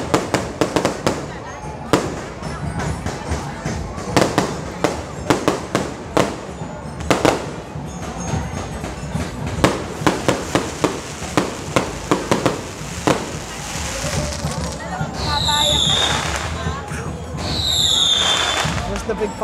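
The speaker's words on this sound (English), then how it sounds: "The big fireworks." New Year's fireworks boom and crackle repeatedly, loud and close, with rapid bursts and a couple of whistling rockets near the end; people talk faintly underneath.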